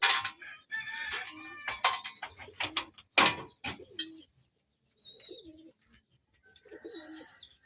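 Racing pigeons and birds call at a loft during an island-to-island training race, with loud bursts of bird calls, including rooster-like crowing, at first, then softer, throaty cooing phrases after a pause.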